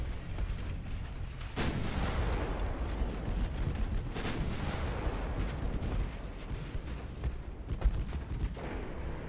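Heavy naval 9-inch guns fire in a battleship video game, with a sharp, loud salvo followed by repeated booming shots and rumbling reports that overlap and decay through the whole stretch, with no talking.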